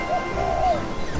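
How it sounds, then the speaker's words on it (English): A dove coos a few soft, hollow notes, one brief call followed by a longer drawn-out one, heard alone at moderate loudness. "Dove."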